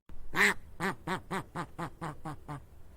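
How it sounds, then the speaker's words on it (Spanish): A plump, bright green, duck-like bird gives a strange call: about ten nasal, quacking notes in a quick, steady series, close and clear with nothing else heard. "El pájaro hizo un ruido muy extraño."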